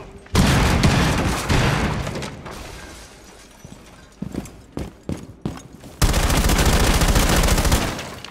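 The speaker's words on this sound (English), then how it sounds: "Detonate cluster charge." Cluster charge detonations in Rainbow Six Siege: a loud burst of booming blasts, then a quieter stretch of scattered sharp bangs, then another loud sustained barrage near the end, with no talk.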